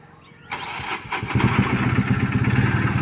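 A Mahindra Maxximo engine cranks and starts after a quiet moment, then settles into a steady, rhythmic idle heard close up with no talking.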